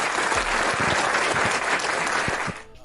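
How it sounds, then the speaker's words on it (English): A round of applause for a guest on a San Francisco 49ers fan discussion show: steady, dense clapping that holds for over two seconds, then quickly fades out. "Let's give Michael a round of applause."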